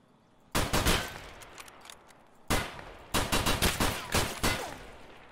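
Automatic gunfire in Escape From Tarkov: a sharp burst, a lone pause, then a second longer run of rapid shots, loud and close with no talking.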